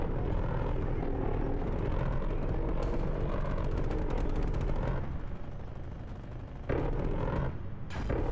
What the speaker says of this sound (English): Hostile spy plane is damaged overhead.